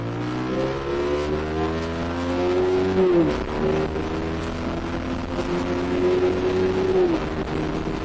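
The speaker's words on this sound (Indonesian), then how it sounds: "Itu buat nentuin kopling, dan sekarang shifting di RPM atas." A motorcycle engine, running on Unil Opal Racing 10W50 oil, revs hard at high RPM, and its pitch climbs, drops sharply at a gear shift around three seconds, then climbs again before falling once more. The engine sounds loud and close.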